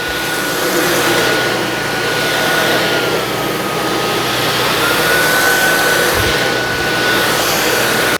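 A Dyson V12 cordless stick vacuum runs while pushed across carpet, giving a loud, steady high-pitched motor whine and airy rush with a faint tonal note, close and uninterrupted until it cuts off at the end.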